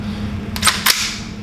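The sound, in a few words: rifle magazine being inserted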